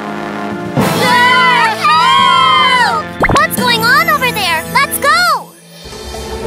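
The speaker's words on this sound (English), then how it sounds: "Just then, the mice screamed from the village." Cartoon mice in a village screaming in high, wavering squeals, loud and overlapping in short bursts with a brief pop between them.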